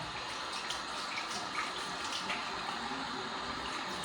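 A steady, close rush of running water, heavy and continuous for the full stretch with no talk, as the face is wetted again during a wet shave.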